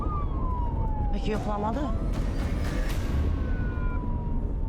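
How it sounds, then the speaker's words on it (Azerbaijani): A police car siren wails in steady, drawn-out tones across the whole stretch, loud and continuous over street rumble, while people talk over it. "O polis maşını değil mi?"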